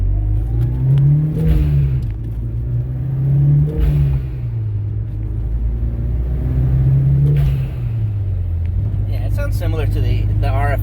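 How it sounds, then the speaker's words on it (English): Mitsubishi Starion driving off, its turbo engine revving loud and close through repeated rising and falling pulls with whooshing releases, while a voice speaks over it. "Hopefully we can get some good sounds off of that blow-off valve through the camera."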